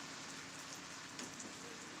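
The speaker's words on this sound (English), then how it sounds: "A little bit of rain, lightning in the distance." Light rain falls steadily during a thunderstorm in Pittsburg, Kansas, a continuous soft patter of drops on surfaces lasting throughout with no talking and no thunder standing out.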